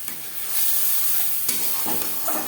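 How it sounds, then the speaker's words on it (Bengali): Ginger, green chili and tomato paste hit hot oil with panch phoron, a steady loud sizzle and hiss with light stirring scrapes near the end. "পাঁচ ফোড়ন ভেজে নেওয়ার পর দিয়ে দেবো আদা কাঁচা লঙ্কা ও টমেটোর পেস্ট"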